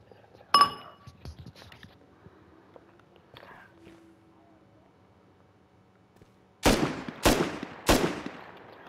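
Gunfire in the video game Warzone: a sharp early shot and faint scattered sounds give way to three loud, crisp shots in quick succession near the end.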